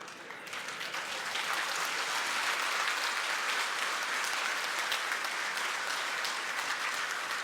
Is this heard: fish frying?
no